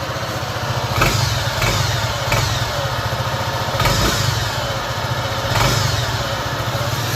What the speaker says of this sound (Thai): เอาสตาร์ทฮึ PCX นะครับ